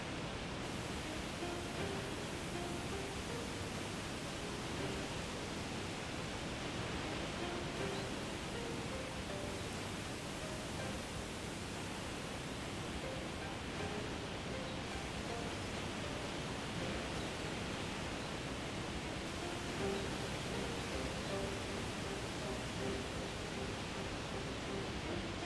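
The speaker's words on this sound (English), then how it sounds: "It is a bunch of waterfalls." Several waterfalls rushing in the Shenmue 2 game world on the way to Bailu Village, a steady, broad hiss of falling water that stays even and unbroken throughout.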